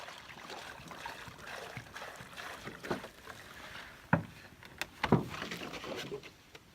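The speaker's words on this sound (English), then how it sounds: "Pour them into the top bag for dirty water." Water poured from plastic milk jugs into the top bag of a lakeside water filter trickles and splashes steadily, with a few sharper bursts and knocks near the end, up close with no talking.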